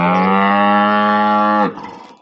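A newly arrived cow on a dairy farm, recently calved, gives one loud, close moo lasting about a second and a half that cuts off abruptly, leaving quiet farmyard background noise.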